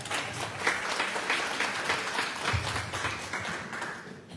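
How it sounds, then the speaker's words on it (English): An audience at a school meeting about splitting Baskerville Elementary between Nash and Edgecombe counties gives a sustained round of applause, a dense even wash of clapping that holds steady and slowly tapers near the end. "Give a big round of applause for Dr."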